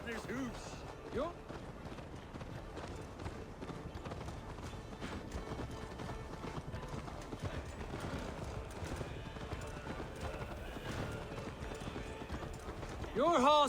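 Rapid rhythmic hoofbeats of a galloping horse drum on steadily, with a whinny, under voices and background music in Assassin's Creed Valhalla.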